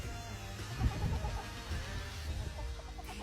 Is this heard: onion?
no